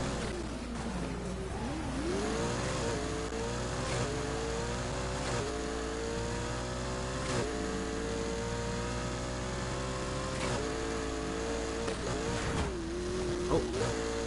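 Race car engines in a PS4 racing game, with a BMW, McLaren and Lamborghini on track, drone steadily and loudly throughout, their pitch sliding up and down as they rev and shift.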